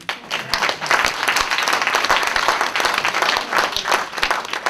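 An audience claps steadily in a warm, continuous round of applause for the council ladies at a Macedonian community event, dense and fairly loud throughout with no break.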